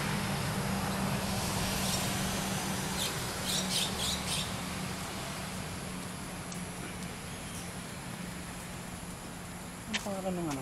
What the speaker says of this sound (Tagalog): Ang dami ibon ah.